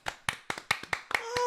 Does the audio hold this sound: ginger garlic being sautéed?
no